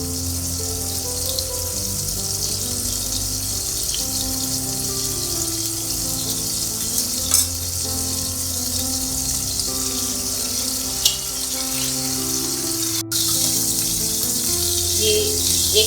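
Zinger burger chicken pieces deep-frying in hot oil, a steady broadband sizzle running continuously and fairly loud throughout, with a few brief clicks and bumps over it.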